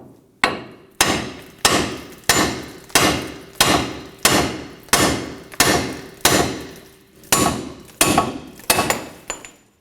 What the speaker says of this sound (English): we can simply just go ahead and use our hammer and bonk this ball joint out